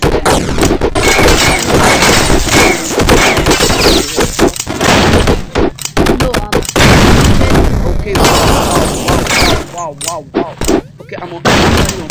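Gunfire and a barrel explosion in a Flash-based shooter game: dense, loud bursts of shots and booms crowd most of the clip, with a few brief gaps and voices running underneath.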